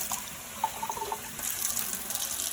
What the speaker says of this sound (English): I'm going to add about a 1/4 cup of water to it.